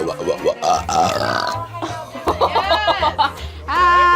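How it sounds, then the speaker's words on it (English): A string of loud, drawn-out burps, several in succession with brief pauses between, close and prominent. "there's this freaking video of her just freaking burping"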